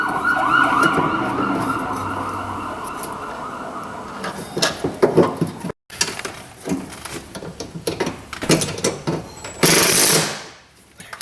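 An ambulance siren wails steadily nearby at first, then fades as the vehicle passes, with clinks and clatter of hand tools from a Dodge Ram repair mixed in and a sharp hiss near the end.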